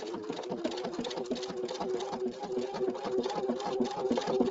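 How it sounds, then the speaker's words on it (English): A Pfaff sewing machine stitching fabric runs in a fast, even mechanical chatter, close and continuous throughout, with no talking. "reposition it so it comes down right on my line and stitch out a second"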